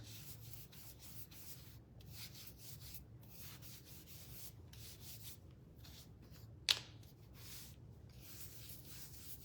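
Soft, steady rubbing and scrubbing as wax is worked onto the edges of a wooden kitchen mixer decoration, continuous and close, with one brief sharp click partway through.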